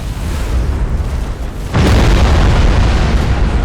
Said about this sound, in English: as contact is made, the bridge section of that Imperial cruiser completely destroyed